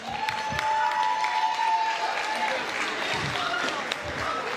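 Applause from the crowd at a soup festival prize draw, continuous clapping across an outdoor gathering with a faint whistle-like tone early on and crowd noise beneath.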